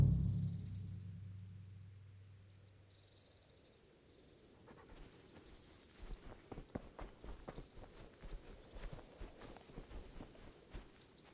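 A horse walks on hooves in the video game Kingdom Come Deliverance, starting with a low rumble and then a run of close, rhythmic clip-clop steps that grow steadier toward the end, with no talking.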